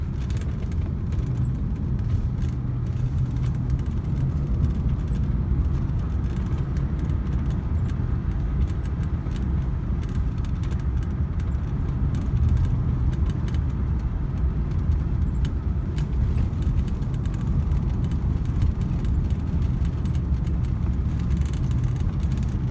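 Steady low engine and road rumble from inside a 1989 Rolls-Royce being driven, a continuous even drone with no voices, unbroken throughout.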